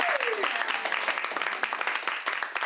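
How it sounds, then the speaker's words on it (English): Brief round of applause from a small group at an office meeting, dense steady clapping that starts with a falling voice over it and carries on throughout. "Round of applause, I think."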